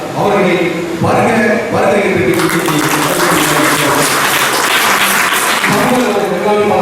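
Audience applause fills the hall at an award ceremony, loud and sustained, with someone speaking over the clapping through a public address system.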